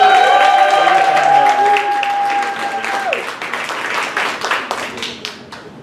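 Applause from a storytelling audience for the storyteller Yogi, starting under a sustained tone or voice, then thinning into scattered individual claps that taper off near the end.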